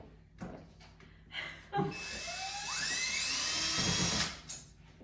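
An electric screwdriver whirs steadily for a couple of seconds while removing screws from a TV wall mount, framed by a few knocks and clunks, close and fairly loud, with no voices.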